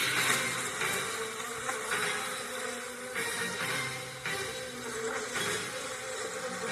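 A dense, continuous buzzing of many bees, steady and close, swelling slightly in places, with no voices.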